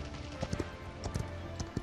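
Horse hooves clip-clopping in the video game Paladins, a quick run of soft, light thuds in an uneven galloping rhythm under low game ambience, faint and brief.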